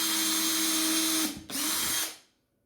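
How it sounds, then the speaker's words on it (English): A power drill with a tiny 1 mm bit bores through ukulele timber: a loud, steady whine, a brief dip as it bites, then a second burst before it winds down and stops. "It's in position, we'll drill all the way through."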